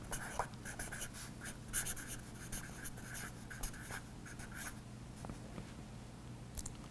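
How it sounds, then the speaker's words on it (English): A pen scratches steadily across paper while a wood stain color recipe is written down by hand on a job site; the strokes are close and continuous with short pauses, and no one speaks. "So write this down."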